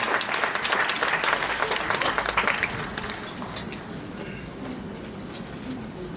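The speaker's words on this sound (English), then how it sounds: "A huge round of applause for all of them." A school audience applauds at an annual prize distribution, with dense, loud clapping for the first few seconds that thins out and softens toward the end.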